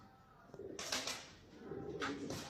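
Bred, selectively raised pigeons coo close by in a loft, giving a few soft low calls mixed with rustling and wing movement.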